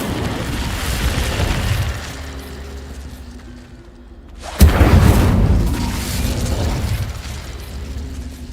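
Casting the Incendio fire spell in Hogwarts Legacy: a sudden loud whooshing burst of flame cuts in after a quieter rumbling stretch, then roars and fades out over a few seconds.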